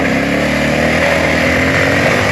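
A 1996 Honda NX650 Dominator single-cylinder trail bike engine runs continuously while riding, a loud, steady thumping drone with wind rush throughout, close and unbroken.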